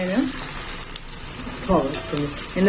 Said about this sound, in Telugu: ఇప్పుడు నేను జీలకర్ర, బిర్యానీ ఆకు ఇంకా ఉల్లిపాయలు వేసేసి ఫ్రై చేస్తున్నాను